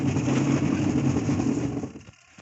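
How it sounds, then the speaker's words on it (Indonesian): A washing machine spins after its motor was replaced, giving a steady whirring hum at close range that winds down and fades out over the last moments. "setelah dinamo diganti, mesin berputar guys."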